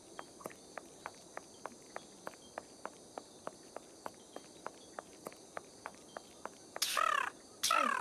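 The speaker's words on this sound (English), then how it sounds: "I hear a bird, Holmes." In the video game Sherlock Holmes Nemesis, steady ticking footsteps walk on, then two short bursts of bright chirping birdcalls break in near the end.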